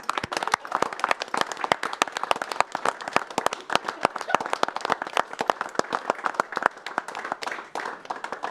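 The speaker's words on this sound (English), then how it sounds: "she deserves a round of applause as well." A small room of people at a city commission meeting claps steadily, with dense, sharp hand claps that are close and fairly loud and continue evenly for several seconds without any talking.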